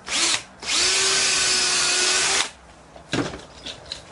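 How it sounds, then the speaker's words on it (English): A power drill bores into a deck board held in a Kreg deck jig, with a short burst, a brief pause, then a long steady whine that stops abruptly, followed by lighter knocks and handling noises. "Now for this edge of the board, I can still do the standard drilling."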